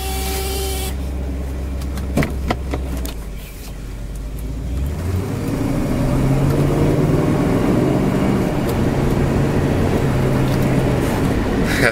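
A Mercedes-Benz 450SEL W116 saloon accelerating gently, its engine rising from a low idle into a steady, loud, rising hum heard close from inside the car, with no talk over it.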